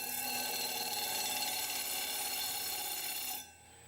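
A powered surface grinder works the face of a double-bladed metal fidget spinner, a steady high whine with a rough grinding hiss throughout before it suddenly drops away near the end, no speech.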